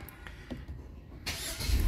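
Keyless push-button start of a Hyundai Stargazer with the brake held: quiet cabin, then the engine catches at the midpoint and settles into a steady, fairly loud idle rumble with broadband whir.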